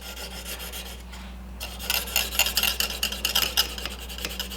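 A new stock-removal knife dragged across a medium grit sharpening stone, repeated close scraping strokes in a brisk uneven rhythm, gritty and rasping, with no talking.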